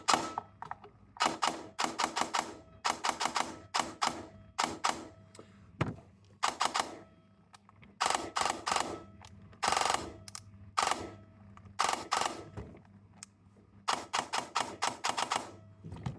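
Scorpion Evo airsoft gun on a 7.4 V battery, running slightly hot, fires in rapid bursts of sharp mechanical clatter, close and loud, with short pauses between each burst.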